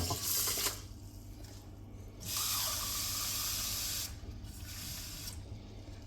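Tap water running and pouring into a measuring cup in a kitchen, 250 ml at a time for cooking rice alongside chilli con carne; a steady hissing stream in two bursts with a quieter pause between, close and moderately loud.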